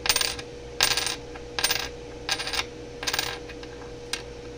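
A single penny is dropped repeatedly onto a hard surface, giving six short, bright metallic rings with quick bounces, spaced about evenly and close by, with no talking.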